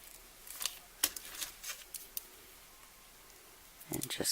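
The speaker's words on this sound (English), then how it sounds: "And just cut the ends at an angle." Scissors snip the ends of a ribbon for a paper clip planner decoration, several short, close crisp cuts spaced irregularly, with a brief cluster of snips at the end.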